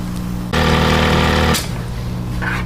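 A US Blindstitch 718 C6 hemmer sewing a blind stitch runs loud and steady for about a second with a dense mechanical whir, then stops, leaving quieter shop noise.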